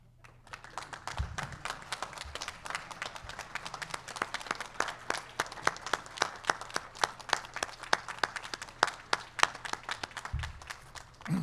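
Graduates at a medical center behavioral medicine and psychiatry ceremony applaud their friends and family, a long run of sparse, distinct claps that grows denser and sharper, moderately distant in a quiet room.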